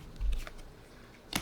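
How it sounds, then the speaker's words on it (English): Tarot cards are shuffled by hand at close range, with two brief soft riffling bursts separated by a quiet pause. "for some reason, I have to keep shuffling."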